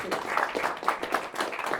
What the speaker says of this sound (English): Give a round of applause for fantastic